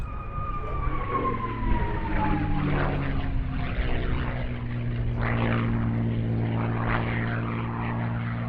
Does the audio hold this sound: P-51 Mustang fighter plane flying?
yes